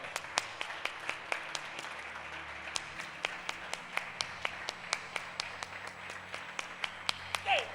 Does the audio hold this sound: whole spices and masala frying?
no